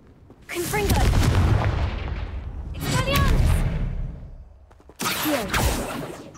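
Repeated Confringo fire-spell blasts in Hogwarts Legacy, loud booming bursts at roughly three points with crackling tails, layered over game music and effects while a voice is heard.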